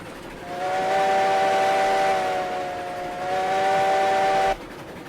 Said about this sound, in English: Can't wait until we get the reverb back on the whistle